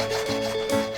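A handmade eyeglass frame joint is rubbed smooth, a brief scratchy back-and-forth rasping with two or three quick strokes, close and alone.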